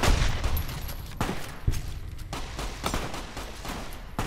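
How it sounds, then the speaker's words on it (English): Bursts of gunfire aimed at the player in Fallout New Vegas crack out in irregular volleys, loud and close, some shots overlapping into a rattling fusillade. "Someone is shooting me."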